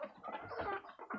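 Newly added white hens cluck softly in a farmyard, a short burst of faint, close, throaty calls.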